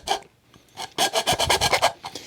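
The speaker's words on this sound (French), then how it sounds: "Donc ici on va venir mettre un petit coup de lime" A hand file rasping plastic on the earmuff of a tree-climbing helmet, a few short strokes followed by a quick run of about eight rhythmic, close, loud rasps.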